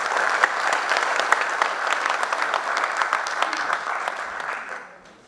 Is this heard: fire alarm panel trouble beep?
no